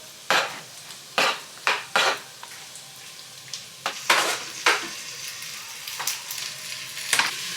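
Butter chicken spices stirred and frying in a hot pan, with a run of sharp, scraping stir strokes over a soft background sizzle, close and fairly loud, some strokes in quick pairs.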